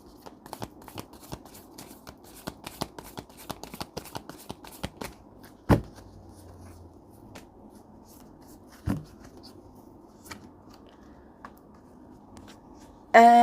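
Oracle cards from a tarot-style deck are shuffled by hand, giving a quick run of soft riffling flicks followed by a few sharper isolated taps and snaps, close and fairly quiet with no talking.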